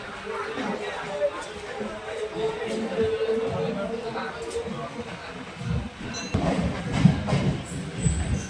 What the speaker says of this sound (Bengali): তো ফাইনালি আমাদের ট্রেন ধরলো নৈহাটি লোকাল।